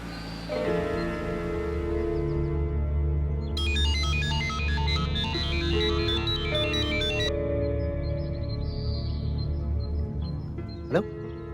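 A mobile phone ringtone in a Bhojpuri action film plays as a bright repeating melodic pattern for several seconds over a steady background music bed, followed by a short sharp accent.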